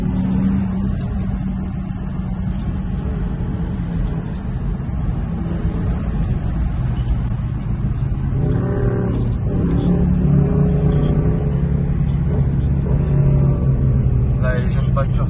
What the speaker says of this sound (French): On peut vraiment reconnaître rapidement une RS3 grâce à la sonorité du 5 cylindres qui lui est vraiment propre.